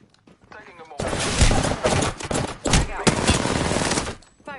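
Rapid automatic gunfire in Apex Legends bursts in after a quiet opening, loud and close, rattling in several sustained volleys with a short break midway before cutting off.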